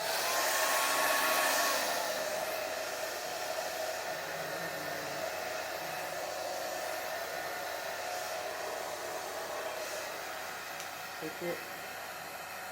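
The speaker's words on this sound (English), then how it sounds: "I blow dry it." A hair dryer runs continuously while blow drying a braided wig, a loud steady airy whoosh that eases slightly after the first seconds, with a brief spoken remark near the end.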